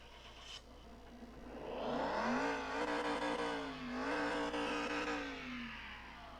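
A 1950s-style Chevrolet Bel Air engine in Car Mechanic Simulator 2021 cranks after a click, catches and revs up loudly, its rising harmonic whine holding steady with a brief dip before climbing again, alone without voices.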